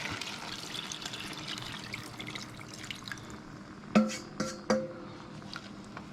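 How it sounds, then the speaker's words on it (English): Marinade and water pour and splash into a dish for a beef tongue roast, with a few clinks of metal against it near the end. "I've just added in 2 cups of water, and I'm going to tip that"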